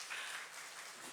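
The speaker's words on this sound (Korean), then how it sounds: "환영의 박수 하겠습니다." Audience applause welcoming a guest at a church midweek prayer service, a steady dense clatter of many hands clapping at moderate level throughout, with no voices over it.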